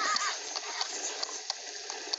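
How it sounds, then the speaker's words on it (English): A horse in the survival video game 99 Nights in the Forest gives a thin, high whinny at the start, followed by faint repeated clicks and taps over a bright, steady game-audio hiss. "That freaking horse annoys me."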